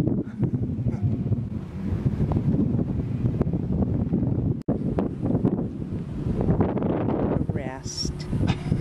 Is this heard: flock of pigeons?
no